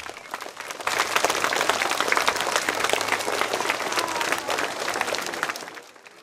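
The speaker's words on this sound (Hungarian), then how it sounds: "most kérünk egy nagy tapsot" Audience applause for pupils at a Hungarian primary school graduation and year-end ceremony, a dense steady wash of clapping that swells in near the start and fades out toward the end.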